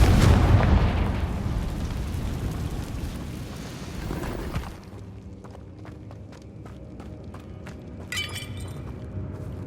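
A blasting spell detonates in the Goblin Mines of Hogwarts Legacy, a loud rumbling explosion that rolls on for several seconds before fading into scattered crackling debris and faint clatter.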